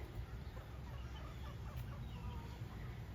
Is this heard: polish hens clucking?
yes